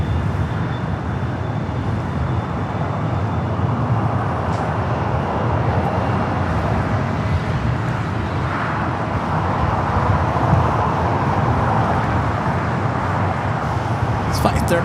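Boeing 787-9 Dreamliner jet, six years old, arriving on a flight from Newark at LAX, heard as a steady broadband engine roar that holds constant and swells slightly near the end, with faint voices in the background.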